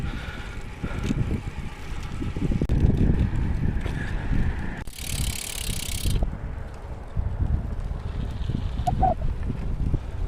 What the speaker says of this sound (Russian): Скорее всего, встречный ветер дует.